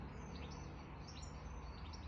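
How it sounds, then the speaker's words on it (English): Birds sing outdoors in quiet morning surroundings, faint scattered chirps and tweets over a low, steady ambient hum from distant traffic. "I hear birds."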